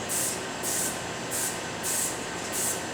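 Graffiti spray paint can hissing in four steady bursts of similar length separated by short pauses, a bright airy spray heard up close over a constant low background hum, with no talking.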